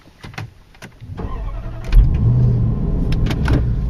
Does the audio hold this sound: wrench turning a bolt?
no